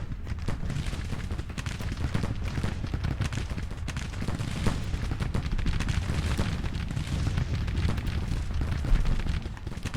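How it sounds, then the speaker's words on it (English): Continuous dense rumbling barrage of cannon and gunfire from a Grand Tactician: The Civil War winter battle, with steady booming artillery fire pounding a Union line, loud and unbroken throughout with no voices. "we want to make sure that the artillery fire is just constant and consistent on that particular Union line"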